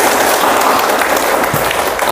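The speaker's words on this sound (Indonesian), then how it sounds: "Tepuk tak terhingga untuk kita." A group of teachers and students claps together in a classroom during a structured clapping routine, producing a dense, steady wash of many hands that holds loud and even throughout before cutting off abruptly.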